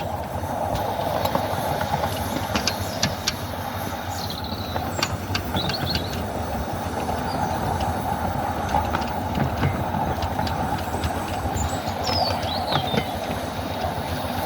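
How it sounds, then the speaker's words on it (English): A Station Road 'Mazeppa' narrow-gauge steam locomotive rolls along level track, giving a loud, steady rumble of running gear with scattered clanks and faint squeals, continuous and close throughout. "Once I've got rolling now on the level, I'm going to go to third notch."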